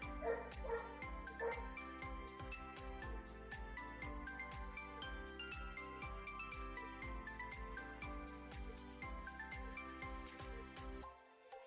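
Neighbors' dogs barking noisily, a run of sharp, repeated bow-wows and yips with some whimpering, fairly close and continuous, ending abruptly.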